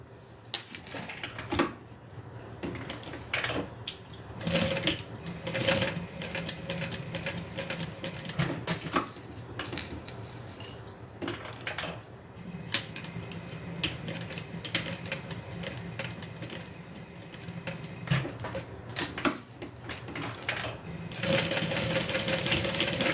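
A sewing machine stitches a backpack strap down with a steady, rapid mechanical chatter that stays close and continuous, pausing briefly now and then before picking back up louder near the end.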